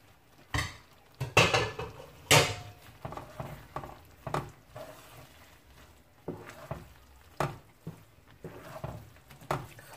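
Pasta goes into a pan while making pasta Alfredo, with clattering metal knocks, scrapes and utensil clinks in irregular bursts, close and fairly loud with quieter stirring between.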